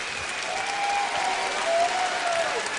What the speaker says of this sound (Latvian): Aplausi nebeidz, protams, rimti.